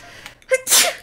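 A video game character in Zelda: Tears of the Kingdom sneezes from dust: a short, close sneeze with a quick breathy intake and then a sharp, loud burst, heard alone.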